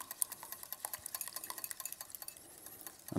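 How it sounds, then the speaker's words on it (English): Eggs being whisked by hand in a bowl for a black garlic zabaglione: rapid, steady metallic clicking and scraping strokes, quiet and close, with no talking. "Make sure to whisk while you're putting it in"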